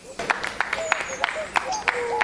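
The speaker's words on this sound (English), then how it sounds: "The other animals cheered and clapped." Storybook sound effect of a crowd of animals cheering and clapping, with a scatter of claps and bright cheering calls heard briefly as a short burst.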